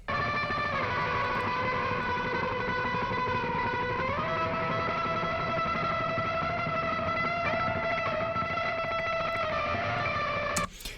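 An electric guitar runs through a Collision Devices Black Hole Symmetry pedal, giving a dense, sustained ambient wash with steady held tones. The notes shift pitch only slightly, and the sound stays even and unbroken for about ten seconds.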